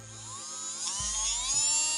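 A 395 DC motor drill runs off an adjustable-voltage LCD adapter, giving a steady high-pitched whine that rises and strengthens partway through as it speeds up, close and continuous with no talk.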